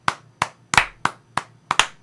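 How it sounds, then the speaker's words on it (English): Six sharp hand claps spaced slowly and unevenly, close and distinct, the last two coming in quick succession. "Yeah, slow clap."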